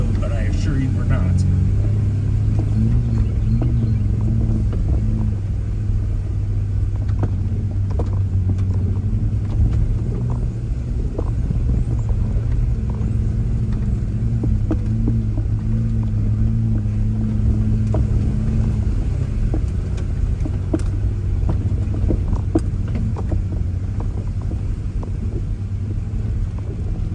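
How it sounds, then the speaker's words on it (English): An off-road vehicle climbing a trail at Windrock park in low gear, its exhaust a deep, steady rumble that holds throughout, close and loud, alongside wind noise. "you can hear Nino's exhaust when he's in that low gear"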